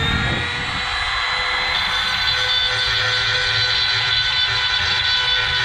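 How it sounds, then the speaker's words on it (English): A Dremel rotary tool grinds caked rust scale off the rear brakes of an F150, a steady, loud high-pitched whine that runs continuously close up, with no voices. "you don't want to leave the Dremel lingering in any one spot. You want to keep it moving"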